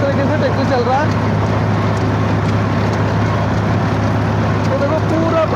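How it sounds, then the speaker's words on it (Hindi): A Swaraj tractor engine drones steadily on hilly desert ground, a low continuous rumble with a faint voice occasionally rising over it. "कि किस तरीके से ट्रैक्टर चल रहा है।"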